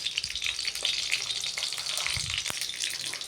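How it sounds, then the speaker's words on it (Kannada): Peanuts fry in a little oil in a pan for red chilli chutney, a dense, close crackling sizzle throughout with a few soft knocks, no voices. "ಶೇಂಗಾ ಕಾಳನ್ನ ಸ್ವಲ್ಪ ಎಣ್ಣೆಯಲ್ಲಿ ಫ್ರೈ ಮಾಡಬೇಕು"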